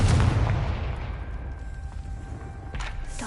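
A Confringo spell blast in Hogwarts Legacy goes off as one loud, booming burst up front, then trails into a rumbling decay with faint mechanical rattles.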